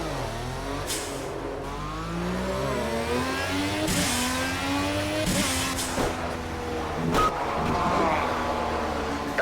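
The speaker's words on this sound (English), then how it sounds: "that engine sound is incredibly loud" A loud, near car engine in a racing video game, seen from a cockpit view, revs and climbs through repeated gear shifts, with bursts of tire squeal over roughly ten seconds.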